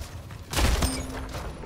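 Gunfire in the Splitgate video game: a short burst of shots with a sharp thump and a brief rattle, fairly close, followed by a lingering low tail.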